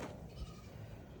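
Goats on a farm bleating faintly at a distance, a short, soft, quiet call over low background noise.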